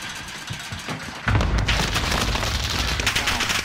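A cluster strike in a video game lands with a sudden deep boom followed by a dense, rumbling barrage of overlapping explosions that keeps crackling and roaring, loud and close.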